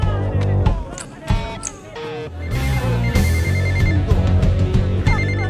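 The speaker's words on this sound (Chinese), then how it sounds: "这时电话铃声突然响起" A telephone rings in short repeated bursts amid loud music and other busy sounds, with a voice briefly heard.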